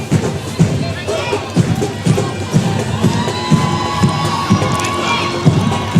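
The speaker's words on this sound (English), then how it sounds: "Keep the applause going for these constables." A crowd cheers and shouts for constables at a police passing-out parade, a loud continuous roar of voices with scattered yells and dull thumps, carrying on without a break.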